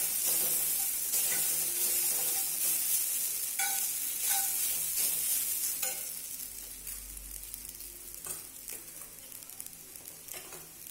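Vegetable chow mein with capsicum, onion and garlic stir-fries in a pan with a steady, loud sizzle, broken by scattered clinks and scrapes of stirring that thin out toward the end.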